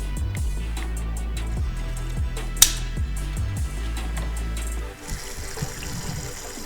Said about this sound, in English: I can hear some water flowing.